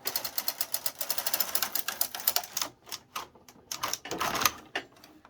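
Knitting across a row of a tabard garment front, with rapid clicking and tapping of the needles in quick irregular bursts, fairly close and moderately loud, with no voices.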